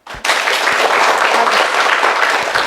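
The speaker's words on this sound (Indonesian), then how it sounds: "Tepuk tangan dulu." After a short quiet moment, students in a vocational high school (SMK) classroom break into loud, close, steady clapping that carries on to the end.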